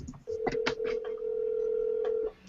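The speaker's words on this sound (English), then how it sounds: "We're going to get her on the phone." A telephone call being placed, with a steady electronic tone humming for about two seconds under a few soft clicks and handling noises, close and clear, no talking.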